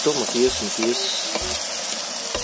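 Eggplant sautés in a pan with a steady close sizzle and hiss, with someone talking over it.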